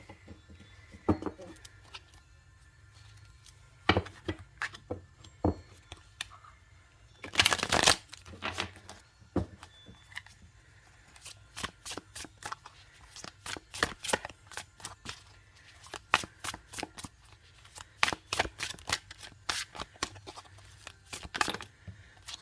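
A deck of tarot cards being shuffled by hand, with bursts of sharp riffling and flicking clicks in irregular clusters, fairly close and soft, recurring throughout with brief pauses between.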